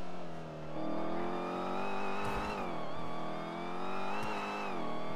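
A video game car drives with a steady, whining, whistle-like engine tone that rises and dips with speed, loud and continuous throughout, with brief bursts of tire noise and no talk.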